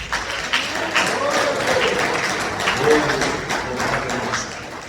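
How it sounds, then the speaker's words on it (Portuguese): Congregation clapping during a Sunday church service, a dense continuous patter of many hands that fills the room at steady volume throughout. "Agradeço a oportunidade, os palmas para Jesus"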